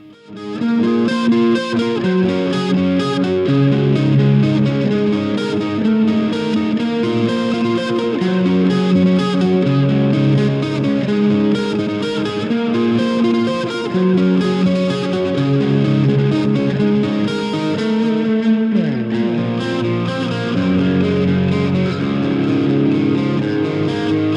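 Heavily distorted electric guitar plays a sustained melodic line, washed in delay trails and lush reverb, loud and continuous.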